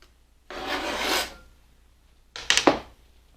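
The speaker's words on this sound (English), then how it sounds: "I just bunch them together and give them a very coarse chop." A knife coarsely chops a bunch of beet greens on a board: one long scraping rasp, a pause, then a quick cluster of three sharp cuts, close and moderately quiet.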